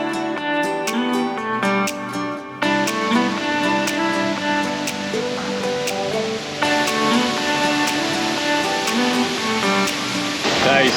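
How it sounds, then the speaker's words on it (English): Manuaba waterfall in a creek near Ubud, Bali, a steady loud rush of falling water heard up close, with faint music playing over it throughout. "you can do a short 10-minute detour off to Manuaba waterfall, which is where we are now"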